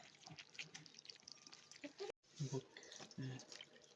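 Freshly caught field crabs, legs and claws removed, are rinsed in water, giving splashing and trickling sounds with brief pauses while a person talks over them.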